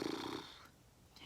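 A storyteller's voice imitates a snore with one short, rough, rattling inhale, then fades into quiet breathing, heard close and soft.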